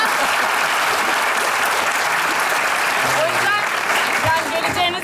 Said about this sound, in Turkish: alkış alalım bu tarafa değil mi?